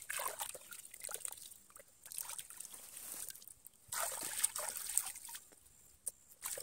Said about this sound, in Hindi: मैं यहाँ मुँह हाथ धो लेता हूँ।